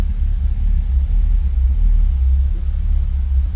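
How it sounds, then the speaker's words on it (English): A cold Mercedes-Benz 280SL engine idles just after firing up, a steady low rumble with a faint, even pulse carrying close and loud throughout, no voices over it. "Car does fire up nicely"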